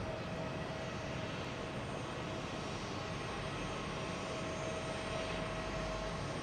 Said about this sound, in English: So we have a couple of JetBlues coming in, one from Las Vegas, one from Raleigh-Durham.